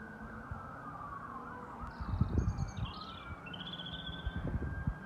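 Sirens wail from far off across an outdoor yard, a faint rising and falling tone threaded over low street rumble and scattered thumps, with no talking.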